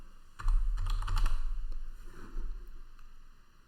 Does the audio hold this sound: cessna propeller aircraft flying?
no